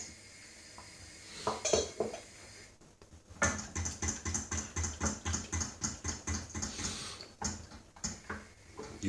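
Scrambled eggs being stirred in a pot: a steady run of rhythmic metallic scrapes and clinks of the utensil against the pot, fairly close and alone.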